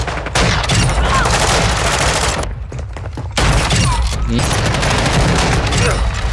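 Rapid shotgun and pistol fire in a Call of Duty: Modern Warfare II multiplayer match, dense bursts of shots and booms with a brief lull in the middle, with speech mixed in.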